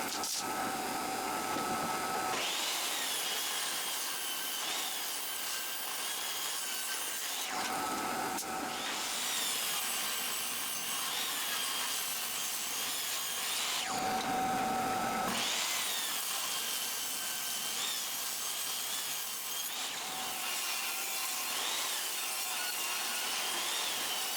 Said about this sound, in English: I rip the rest of the two 2x4s into 2x2s.